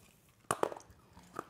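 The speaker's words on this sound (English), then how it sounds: "Oh, these are hard. This sounds crunchy." A couple of sharp, close crunches of hard dry dog food being chewed, then a faint crunch a moment later, with near silence around them.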